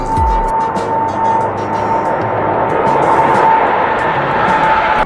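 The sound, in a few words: aeroplane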